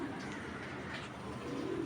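A pigeon coos softly and steadily through a short stretch, its low throaty calls close by with no talk over them.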